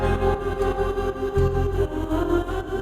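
A melodic R&B loop sample with its filter pulled down plays alone, muffled and bass-heavy with a dull, rolling pulse, for a few seconds.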